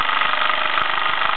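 A 1967 Mamod SE1 toy steam engine in good, lacquered condition runs steadily at close range, making a continuous dense mechanical whir with faint rhythmic knocking as it settles into its stride.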